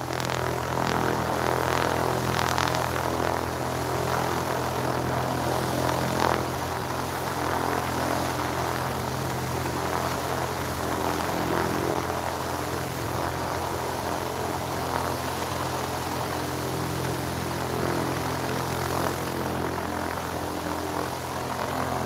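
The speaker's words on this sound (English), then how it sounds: "that noise is coming from that plane to the right there" A propeller airplane's engine runs close by on the ground before a flight, a steady, loud droning hum with a constant pitch and faint fluctuations, lasting throughout without any speech.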